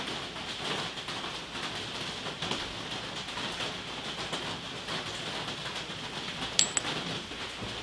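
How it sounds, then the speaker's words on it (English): Steady rain falling outside a workshop, a soft continuous hiss with scattered drips and a faint metallic tick near the end, no talk. "Yep, still raining."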